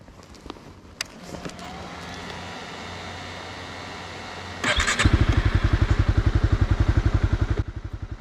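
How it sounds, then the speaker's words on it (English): A light, easy-to-handle motorcycle is ridden. A steady engine drone and road noise run for about five seconds, then a much louder, rhythmic pulsing engine note takes over as the bike accelerates close by, with no talking. "because we are on a light, relatively easy to handle bike, let's go exploring."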